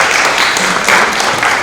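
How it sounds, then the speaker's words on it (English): Audience applause after a talk at a scientific event, a steady dense wash of many hands clapping throughout without any break, fairly loud and close. "So please give a warm applause for Arnab."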